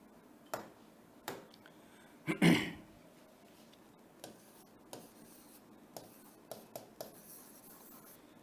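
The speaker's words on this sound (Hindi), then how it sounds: "देखिए सेंटेंस लिख रहा हूं" Chalk or a marker writes a sentence on a classroom board, making a scratchy rubbing stroke and a series of light taps and clicks spread through the clip, faint and close, with no speech.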